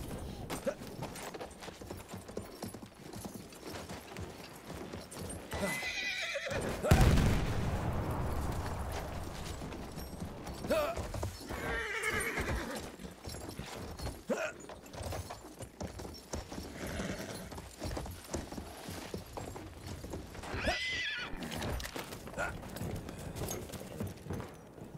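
Horse hooves clip-clopping in a steady rhythm in the Battlefield 1 video game, with occasional whinnies and distant battle rumbles and blasts, fairly quiet overall.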